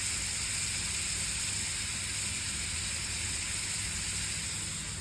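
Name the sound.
butter sizzling in a pan for steak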